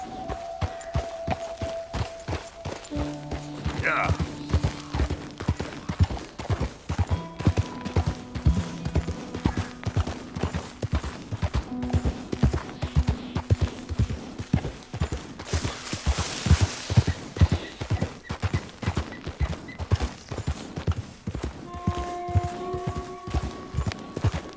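A steady, rhythmic clip-clop of hooves runs throughout at a quick pace, with occasional tonal sounds from a game scattered across the scene.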